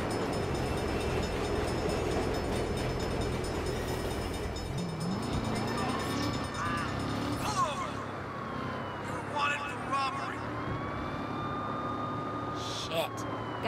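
A train rumbles past in the video game Saints Row, a steady low roar with clattering under a busy city scene, while a police siren wails over it from the middle onward.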